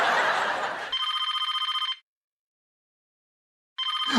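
A telephone rings with a rapid electronic trill, then falls silent, then starts ringing again; a brief laugh comes just before the first ring.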